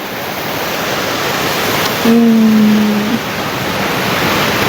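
Ai Khiao waterfall flows as a steady, dense broadband rush of water, loud and continuous, with a brief low tonal hum partway through and no voices.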